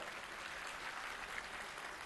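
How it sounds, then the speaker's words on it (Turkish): A crowd of farmers claps for a government minister at an investment opening ceremony in Kütahya, Turkey, with dense, steady applause filling the space throughout. "Kütahyalı çiftçilerimiz lütfen Sayın Bakanımızı coşkulu bir şekilde alkışlasınlar."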